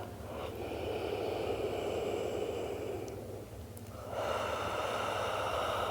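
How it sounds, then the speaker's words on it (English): A slow, deep breath drawn in and let out during a gentle postpartum movement session, a soft airy rush that fades to a brief pause before another long breath; no talking. "One more deep breath."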